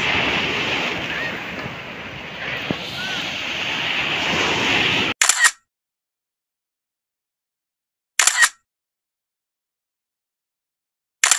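Strong ocean surf rolling onto a beach at San Felipe, Zambales, a steady loud wash of waves and wind for about five seconds, then abruptly cut to silence with brief bursts of the same roar returning.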